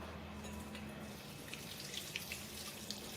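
Water runs steadily from a tap or kettle over packets of mung bean noodles, a continuous splashing stream with a few small drips and clinks near the end, no talking.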